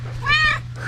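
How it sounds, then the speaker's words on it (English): A collared house cat lets out one short, close, rising-and-falling meow over a steady low hum, in a home in the Philippines. "We also got our little house cats."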